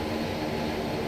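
A Dornier Do 328 turboprop taking off in X-Plane 11, a continuous loud propeller and engine drone with a steady low throb, unbroken through the brief moment.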